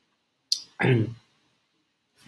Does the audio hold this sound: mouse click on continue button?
yes